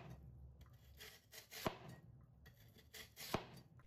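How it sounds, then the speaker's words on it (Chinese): A knife slices lotus root thinly on a chopping board, making two crisp, sharp strikes against the board about two seconds apart, faint and close in a quiet kitchen. "接下来我们来到菜板上，把莲藕切成薄片"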